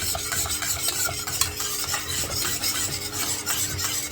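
Custard mixture of egg stirred steadily in a pot on the stove, heating toward a boil; a continuous scraping, swishing rasp with soft repeated strokes, close and fairly loud, with no talking.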